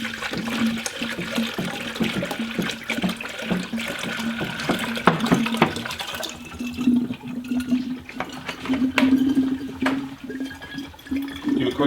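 Water gurgles and rushes through the cooling system of a 1993 Mazda RX-7 FD3S being flushed with plain water, a steady loud flowing churn with bubbling bursts throughout.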